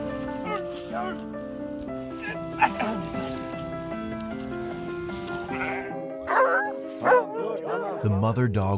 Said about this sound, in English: The mother dog was pleading with humans to save her puppies.